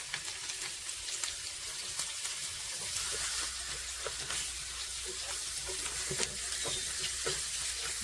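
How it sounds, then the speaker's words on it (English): Butter heating in a pan on a small portable gas stove outdoors, giving a continuous soft sizzle with scattered light crackles and pops, a low steady hum joining partway through, no voices. "So I'm gonna get my little portable gas stove and get some butter heated up and see what happens."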